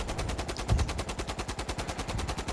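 Rapid, rhythmic gunfire in the war game Foxhole during an artillery barrage, with evenly spaced shots repeating steadily about ten times a second and one heavier low thump early on.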